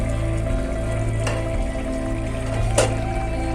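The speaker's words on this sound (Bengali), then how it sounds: "কাঁচা লঙ্কা দিয়ে এবারে আমি আর একটু ভালো করে নাড়িয়ে নিচ্ছি।" Cauliflower and spinach mixed vegetables with green chillies sizzle in a pan while being stirred, a steady frying hiss with a low hum, broken by two brief, sharp scrapes.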